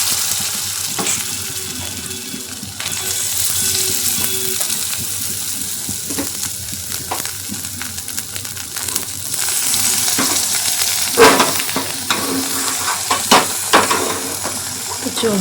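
A beaten egg and onion batter with green chili, sugar and salt hits a hot wok and fries with loud sizzling and hissing, while a spoon stirs and scrapes in bursts and a voice speaks briefly.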